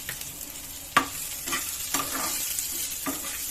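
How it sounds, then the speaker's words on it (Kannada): Onions with a little cumin sizzle in a pan for tomato chutney, a constant close frying hiss broken by several spatula scrapes and knocks against the pan, no voices. "ನೋಡಿ, ಈರುಳ್ಳಿ ಫ್ರೈ ಆಗಿದೆ"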